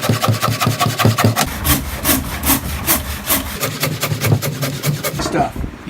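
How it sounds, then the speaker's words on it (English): A brand-new jigsaw cuts through an old heart pine board, its rapid buzzing stroke rising and falling in a steady rasp, loud and close, with a rumbling motor beneath. "I'm going to cut it out with this brand new jigsaw that I just bought for Dawn."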